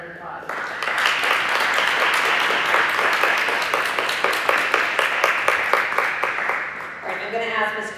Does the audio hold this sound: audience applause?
yes